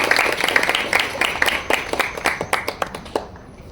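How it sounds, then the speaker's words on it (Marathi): Audience applause at a Marathi devotional discourse gathering, a dense burst of many hands clapping that thins toward the end into scattered individual claps, with no speech over it. "भरपूर टाळ्या वाजवले."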